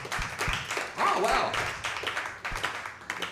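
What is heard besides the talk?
audience clapping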